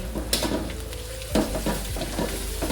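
Hot oil sizzles and crackles steadily in a frying pan as lemongrass is added to belacan for stir-fried banana blossom, with a few sharp clatters and stirring scrapes breaking in, no voices.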